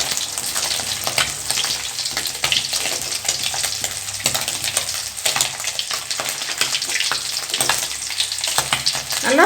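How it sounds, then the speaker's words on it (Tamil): Pieces of dried ribbonfish frying in a pan over a low flame, giving a loud, continuous crackling sizzle with scattered sharper pops and occasional stirring scrapes throughout; no talking. "நல்லா ஃப்ளேமை குறைச்சி வச்சுட்டு வறுத்துக்கோங்க."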